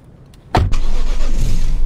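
Car in the itch.io video game Driving Home: a sudden loud thump as the door shuts or the engine catches, followed by a steady low engine rumble.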